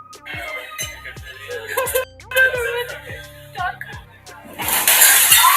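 Storm waves smash glass into a seaside restaurant, ending in a loud burst of shattering and crashing water after a stretch of thumps and clattering debris mixed with background music.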